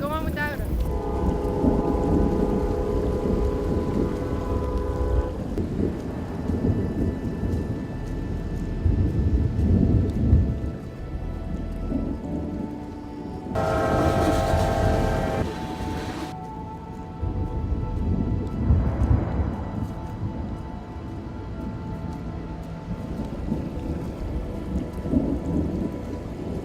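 Thunderstorm with heavy rain pouring steadily throughout, overlaid by deep rolling rumbles of thunder that swell and fade, one louder burst near the middle; a voice speaks faintly at times.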